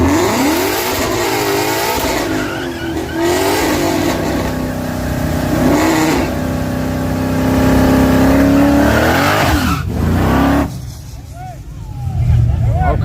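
A drag racing car launches down the strip with loud engine revving and acceleration. A voice talks over much of it, and a sharp drop in the roar comes near the end.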